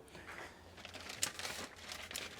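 A small plastic bag holding paperwork crinkles close up, soft rustles and crackles with one sharper crackle in the middle.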